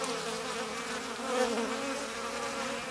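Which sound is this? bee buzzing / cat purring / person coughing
bee buzzing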